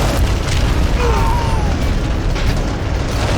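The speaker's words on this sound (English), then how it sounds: "Artillery trying to hold these tanks down." Artillery fire in the Army Men of War battle game as guns try to hold back T-55 tanks, a dense continuous roar of booming blasts and rumble, loud and close throughout.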